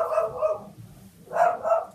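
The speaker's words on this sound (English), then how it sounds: "Quiet, dogs!" Several dogs bark in two bursts of yips and barks, fairly close and moderately loud, with a quieter gap between them and no talking.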